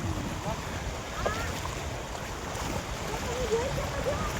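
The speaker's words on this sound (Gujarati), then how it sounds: "પુલ પરથી નદી પસાર થઈ રહી છે." Rain-swollen river water rushes across a bridge in a continuous broad roar, with wind noise and faint voices in the background.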